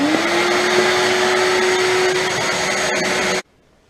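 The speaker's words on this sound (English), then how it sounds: "Okay, we've vacuumed top and bottom." A vacuum cleaner runs steadily inside a gas fireplace, a loud continuous whine with a rising motor tone, then cuts off abruptly near the end, leaving near silence.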